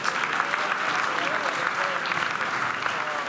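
A stand-up comedy audience claps steadily, a dense, even wash of applause lasting a few seconds without letting up.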